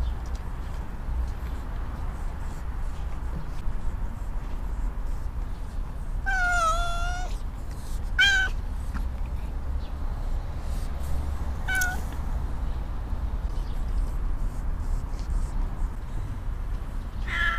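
A cat meows several times outdoors, a long drawn-out cry followed by shorter calls, moderately close over steady background noise.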